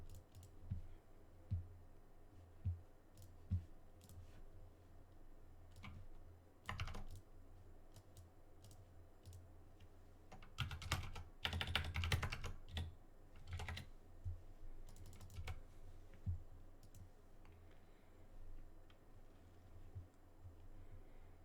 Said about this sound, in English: you also can't see me typing a creature type in here